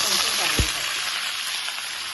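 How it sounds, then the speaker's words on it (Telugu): Mustard seeds, cumin and dried red chillies fry in hot oil as a tempering for mango dal, giving a steady close sizzle and crackle with one soft thud early on; no one speaks. "దీంట్లో కొంచెం ఆవాలు, కొంచెం జీలకర్ర వేసుకుని కొంచెం ఎండుమిర్చి"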